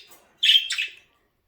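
A pet budgie gives one loud, close, squawky chirp lasting about half a second, with nobody talking.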